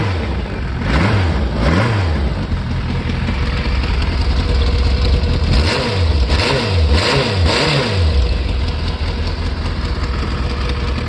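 A 1993 Yamaha GTS 1000 ABS motorcycle engine, which has a charging fault, runs loudly and close, with repeated throttle blips rising and falling over a steady idle.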